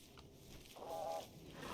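A rooster in the video game RimWorld gives a short, nasal cluck in the middle of a brief quiet moment, moderately close, with faint low background hum and no talking.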